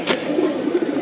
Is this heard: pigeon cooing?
yes